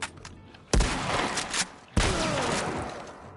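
A hard-recoiling gun fires in The Last of Us Part 1 on PS5, with two sharp, loud shots about a second apart, each followed by a rumbling tail.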